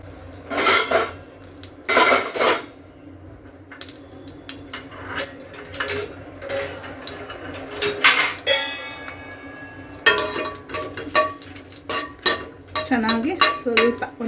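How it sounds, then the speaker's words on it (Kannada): Byadgi dried red chillies going into hot oil for a mushroom gravy, mostly heard as loud repeated clanks and scrapes of a metal spoon against the pan over a faint frying hiss. "ಇದನ್ನ ಫ್ರೈ ಮಾಡ್ಕೊಳ್ಳೋಕ್ಕೆ ಇವಾಗ ಫಸ್ಟು ಬ್ಯಾಡಗಿ ಮೆಣಸಿನ್ಕಾಯಿ ಹಾಕೋತಾ ಇದ್ದೀನಿ"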